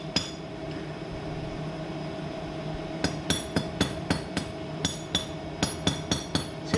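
A hammer chips weld slag off steel while fitting new U-bolts on a Jayco Windup van, sharp metallic clinks in quick bursts of several strikes over a steady background hum, close and clear.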